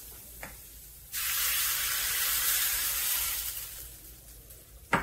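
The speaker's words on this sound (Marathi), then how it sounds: "चटणी घालून घेतली" Chutney dropped into a hot Marathi-style tempering bursts into a loud, steady sizzle after a faint tap, holding for several seconds before easing off, with a clatter at the end.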